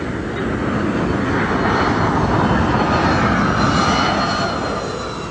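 A steady, loud roar from a Northrop YF-23 Black Widow jet in flight fills the whole stretch, a broad engine drone with a faint high whine riding on top.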